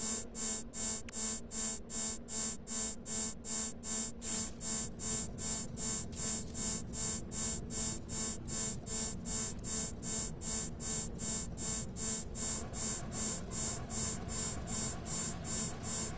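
A repeating electronic alarm tone from the No Man's Sky game, pulsing steadily at about two beats per second for the full stretch. It stays loud and even over a low, continuous background rumble.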